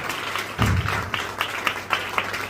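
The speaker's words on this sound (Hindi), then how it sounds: "अच्छे से ताली बजाओ।" Wedding guests applauding during a ring exchange, a burst of clapping that starts suddenly and continues as scattered, moderately loud claps.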